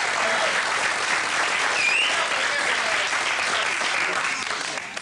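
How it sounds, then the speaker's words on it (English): An audience applauds a comedian on stage, a steady dense wash of clapping that holds evenly and then tapers off at the end. "give him a big round of applause."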